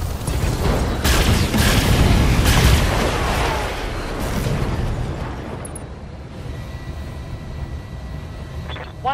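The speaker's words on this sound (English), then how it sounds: "Firing a full salvo." A full weapons salvo from a mech in Battletech erupts as a heavy barrage of overlapping booms and blasts, loud and rumbling at first, then fading into a lower roaring tail.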